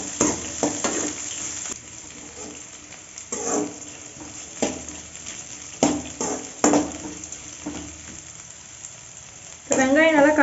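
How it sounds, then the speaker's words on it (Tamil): Onions sautéing in a pan until golden, a soft sizzle under irregular stirring scrapes and clinks of a spoon on the pan, with brief voice sounds near the end. "இப்போ வெங்காயம் நல்லா பொன்னிறம் ஆகிற வரைக்கும் நல்லா வணக்கி விட்டுக்கோங்க"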